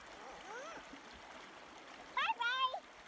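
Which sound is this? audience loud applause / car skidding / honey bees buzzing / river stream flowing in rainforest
river stream flowing in rainforest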